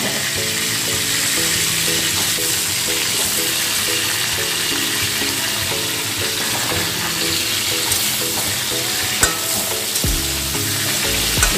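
Pui saag stalks fry in a hot pan, a steady broadband sizzle with crackling that runs unbroken throughout, with occasional stirring scrapes and a brief clunk near the end. Loud and close, with no talking.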